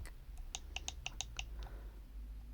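An improvised clicker gives a quick series of about eight sharp, light clicks in an uneven rhythm. They are close and quiet against a faint low hum.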